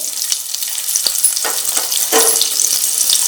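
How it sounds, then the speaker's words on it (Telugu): Chopped onions frying in hot oil in a pan: a steady, bright sizzle close by, broken by several soft clinks and scrapes of stirring, with no one talking. "ఇప్పుడు ఫ్రై చేసుకోవాలి ఉల్లిపాయలు"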